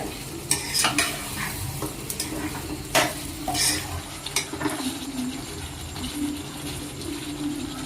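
Chicken curry with a scoop of butter being stirred in a pan: steady scraping and clinking of a spoon against the pan, with a few sharper knocks, over a soft continuous sizzle, close and alone.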